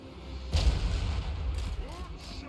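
Artillery fire in a Total War fantasy battle between Chaos Dwarf war machines: a single heavy boom lands, followed by softer distant impacts and rumbling, with someone talking over it.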